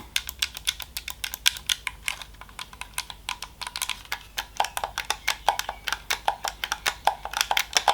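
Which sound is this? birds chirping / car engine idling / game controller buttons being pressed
game controller buttons being pressed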